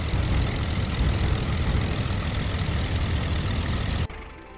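An IL-2 aircraft engine idles in a flight simulator game during landing, a steady loud broadband drone that holds for about four seconds and then cuts abruptly to a faint low hum.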